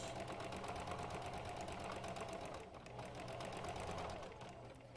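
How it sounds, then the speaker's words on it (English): A sewing machine stitches steadily around the edge of a fabric face mask piece, a fast even mechanical chatter that briefly eases and then resumes, close and alone. "But I'm going to sew all the way around this piece."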